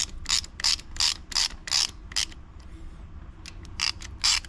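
Close, fast ratchet clicking in quick bursts with short pauses as a socket wrench tightens 10 mm shifter bolts during an ISR short shifter install on a Mazda Miata.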